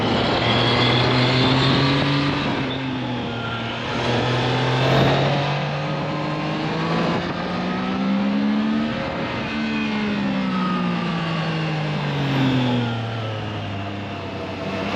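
A Triumph Trident 660 motorcycle engine ridden on tight mountain roads in Dehradun, steady and throaty, rising and falling in pitch as the rider rolls the throttle on and off, loud and close throughout.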